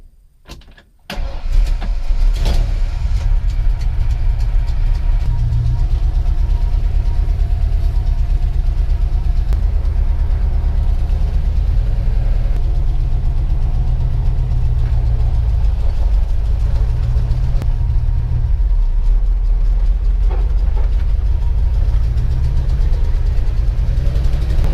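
A 1940 Ford coupe engine cranks and catches, then settles into a loud, steady idle with small revs, close by and without speech.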